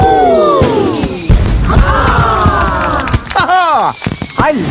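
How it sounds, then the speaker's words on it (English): Giant cartoon firework bursting loudly with booming crashes and whistling, sweeping tones in a children's animated kingdom celebration, dense and continuous with a voice briefly mixed in. "And now for the giant firework!"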